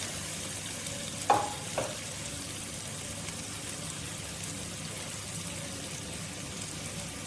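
Steady, low sizzle of food frying in a pan, with a couple of faint knocks early on and no talking.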